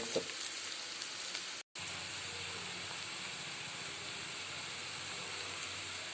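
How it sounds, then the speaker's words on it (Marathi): Two medium-sized onions fry in a pan until reddish-brown, giving a steady close sizzling hiss with a brief cut of silence near the start. "मी दोन कांदे घेतलेले आहेत मिडियम साईजचे छान असे लाल होईपर्यंत तळून घ्यायचे आहे"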